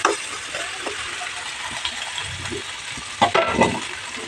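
Onions fry in a pan until browned, giving a low, close sizzle with stirring scrapes and a few louder clatters near the end.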